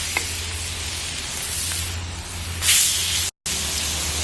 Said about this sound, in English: Don't you love that sizzling sound?